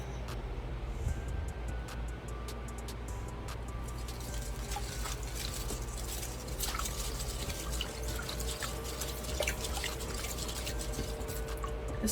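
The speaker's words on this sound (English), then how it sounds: "Let me give it a swirl in the water bucket." An orchid is swirled in a small bucket of water, which trickles and drips steadily with soft splashing and light sloshing over a low background hum.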